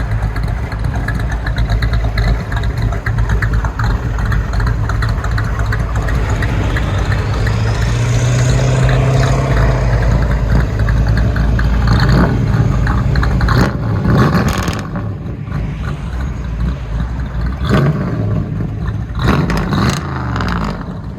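A 1966 Chevy Nova with a cammed 355 V8 and Flowmaster Outlaw true dual exhaust rumbles loudly nearby, a choppy lopey idle with blips of revving building and falling over a long stretch.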